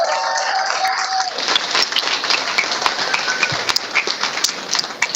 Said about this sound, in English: a big round of applause for an awesome campaign team.